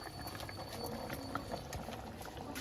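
Eggs frying in oil in a home kitchen, giving a soft, steady sizzle and bubbling with small pops scattered throughout. The sound is fairly quiet and close, with no talking over it.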